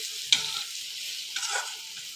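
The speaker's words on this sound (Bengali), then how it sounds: "ভেজে নিচ্ছি।" Hilsa fish pieces coated in turmeric, salt and chilli powder fry in hot oil, a soft steady sizzle with a couple of sharp stirring clinks and scrapes in the pan.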